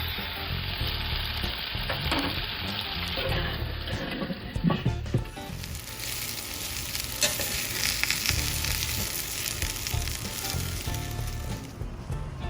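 Pork ribeye sizzling loudly over the hot side of a barbecue fire, a close, continuous crackling fry with occasional pops and shifts as the meat is handled, with no speech.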